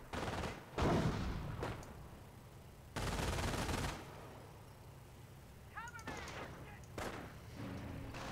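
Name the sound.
machine gun fire in the video game Company of Heroes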